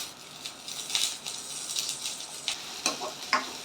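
Curry leaves spit and crackle in hot oil with onion for a Rameswaram-style fish curry, sharp sizzling bursts and pops rising in irregular clusters, close and crisp, with light scraping from stirring.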